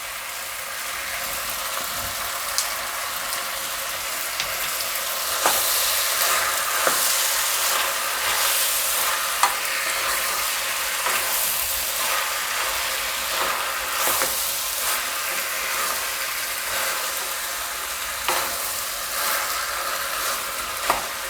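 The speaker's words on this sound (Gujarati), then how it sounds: "આ રીતે આપણે બધું મિક્સ કરી દેવાનું." Vegetables with salt being stirred and fried in a pan, a continuous sizzle broken by repeated scraping stir strokes, close and fairly loud, with no talking.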